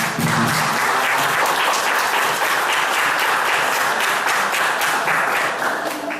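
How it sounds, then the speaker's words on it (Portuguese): A church congregation breaks into a round of applause after a sermon, sustained, loud, even clapping filling the room without a break from start to finish. "Uma salva de palmas"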